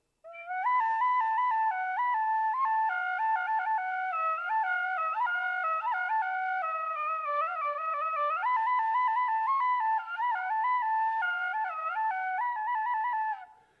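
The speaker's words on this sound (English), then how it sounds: "a little bit of the Irish tin whistle" A tin whistle plays a lively, continuous melody alone, bright and close, with quick ornamented notes for about fourteen seconds.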